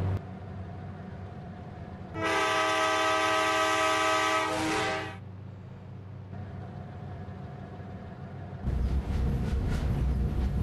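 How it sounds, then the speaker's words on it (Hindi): A train in the Indian Bikes Driving 3D video game sounds a long, loud horn blast while its engine rumbles, then the rumble settles and swells again as it pulls away. "ट्रेन मैंने कर दिया स्टार्ट, ऑटोमेटिक हो गई है, अब ये जा रही है।"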